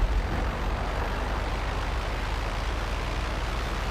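A plane in GTA Online flies close overhead, giving a steady, loud broadband roar that holds without a break and has no voices over it.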